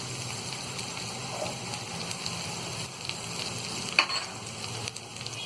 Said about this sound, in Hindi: और इसे भी हम हल्का सा फ्राई कर लेंगे।